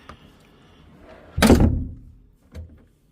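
A door swings shut at a Center Parcs holiday lodge, one loud close thud with a short rattle, followed by a softer knock, heard up close without talk.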